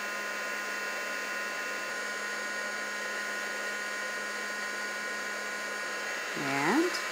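A heat tool blows a steady, loud whooshing hum while melting embossing powder on a delicate lace die-cut pattern, continuous throughout, with a short rising whine near the end.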